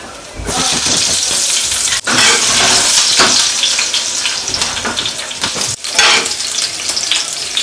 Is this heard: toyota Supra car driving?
no